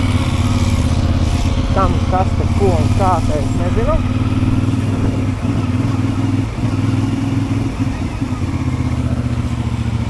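A two-stroke motor scooter engine drones steadily and close up throughout, with someone talking over it and some clattering.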